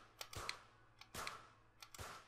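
Rapid-fire pistol shots in a 25-meter Olympic Games video game event, faint sharp pops arriving in small quick clusters, several snaps with brief pauses between groups.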